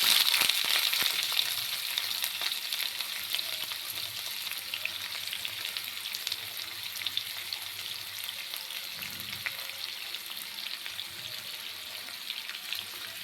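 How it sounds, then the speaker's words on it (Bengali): Chopped onions sizzle steadily in a pan, cooking for butter chicken masala, a dense continuous hiss that stays loud and even throughout with no voices. "পেঁয়াজগুলোকে সামান্য একটু ভেজে নেব।"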